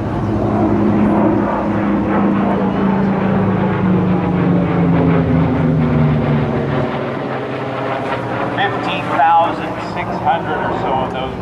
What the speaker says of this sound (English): Overhead the P-47 Thunderbolt.